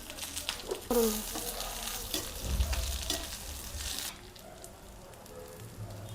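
A cinnamon stick and four cloves frying in oil in a pan, giving a soft steady sizzle with a few stirring scrapes early on that fades quieter toward the end, no talking.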